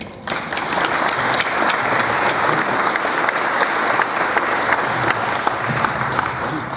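A large audience at a high school graduation ceremony gives sustained applause for parents and family, a dense steady clapping that fills the hall from start to finish without fading.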